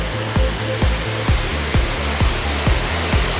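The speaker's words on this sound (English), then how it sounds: "That is because right behind me, there is a waterfall." Dunn River Falls in Jamaica gives a loud, continuous rushing roar close by, with a regular low thumping beat running underneath.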